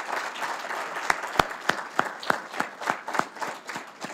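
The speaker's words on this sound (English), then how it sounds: "One more round of applause for our Lieutenant Governor," Scattered applause from a small crowd at a Martin Luther King Jr. Day ceremony in Westland, Michigan, for the Lieutenant Governor, with distinct individual claps standing out in a loose, uneven rhythm.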